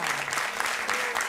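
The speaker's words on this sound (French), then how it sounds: "Je pense qu'on peut applaudir bien." Applause from a television studio audience during a mentalist show fills the whole moment, a steady wash of many hands clapping at once, loud and close.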